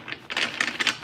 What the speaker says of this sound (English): This is why I take forever to shuffle.